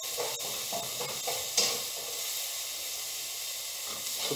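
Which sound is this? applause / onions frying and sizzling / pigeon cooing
onions frying and sizzling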